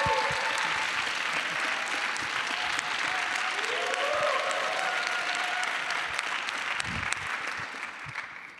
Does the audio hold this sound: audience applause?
yes